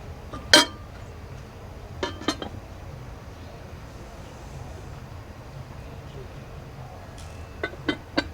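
Pyrex glass lids and a Scanpan pan clink in a few brief, bright knocks while being handled at a garage estate sale, separated by quiet stretches.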